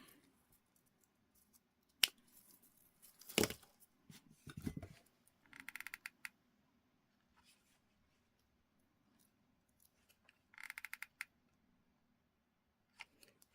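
Scissors cut material down while a jar is being decorated: several close snips and crisp blade rubs come in short bursts separated by quiet pauses, with soft handling noises between them.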